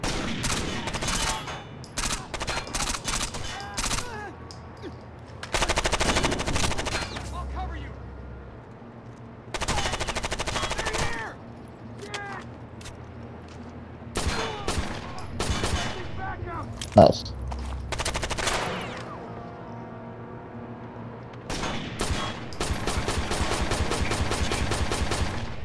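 Gunfire in the video game Rainbow Six Vegas 2 comes in repeated loud bursts of automatic fire separated by quieter gaps, with players talking in between.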